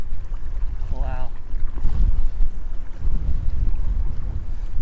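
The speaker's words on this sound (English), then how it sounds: "Wind is really kicking up here." Strong gusty wind near the Golden Gate Bridge on open water, a loud continuous roar buffeting the microphone with low rumbles, and a brief faint sound partway through.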